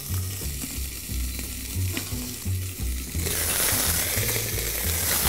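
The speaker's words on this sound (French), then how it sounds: "pendant que la volaille va dorer" Poultry pieces browning in a hot pan for a festive morel dish, sizzling and crackling steadily and close up, growing louder and brighter partway through as the frying intensifies, with no talking.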